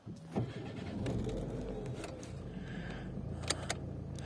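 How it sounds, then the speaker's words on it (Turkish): A Renault Megane 2 car starts with a brief starter whirr, then settles into a steady low idle heard from inside the cabin, with a couple of faint clicks near the end. "Şimdi aracımızı çalıştıralım bir de."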